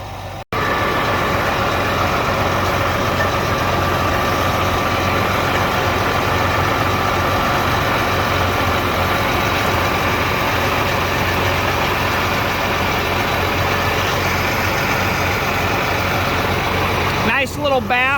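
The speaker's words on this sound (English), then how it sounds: "Nice little bath for a hard-working tractor." Diesel tractor engine idling steadily and loudly while being washed down with water, a continuous low rumble with broadband spray hiss layered over it throughout, close to the microphone.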